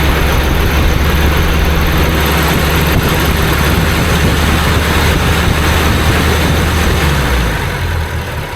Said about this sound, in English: You just touch the throttle and it revs up, and you can feel it's just a bit lumpy.